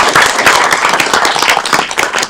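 A city council chamber bursts into a round of applause during a meeting, loud and close, with many hands clapping briskly and continuously throughout.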